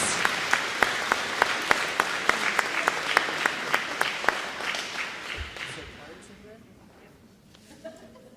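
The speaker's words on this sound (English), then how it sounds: "give a big round of applause to our thought leaders" An audience applauds with brisk, dense clapping that holds steady for several seconds, then fades away toward the end, at a professional development day event.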